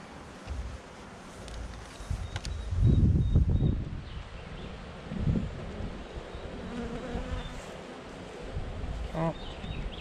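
Honey bees buzz at an open hive during a brood inspection, a steady low hum running throughout with louder swells of buzzing near the start and middle, plus faint rustling and handling noises.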